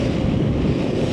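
Heavy wind buffets a motorcycle-mounted microphone in East Yorkshire, a constant loud low rumble with no other sounds coming through.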